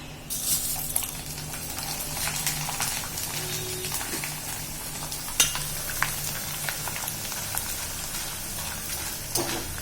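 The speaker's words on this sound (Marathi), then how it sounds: "ते तापलेल्या तेलामध्ये चांगले फुलून येतात" Corn for makyacha chivada puffs up while frying in hot oil, giving a steady close sizzle with scattered pops and crackles and an occasional stirring scrape. No one speaks.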